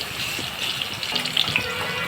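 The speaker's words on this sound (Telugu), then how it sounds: "వెల్లుల్లిపాయలు మగ్గుతున్నాయి కదా" Garlic frying in hot oil for a tomato pickle tempering crackles and sizzles steadily at close range, with a few sharper pops over two seconds.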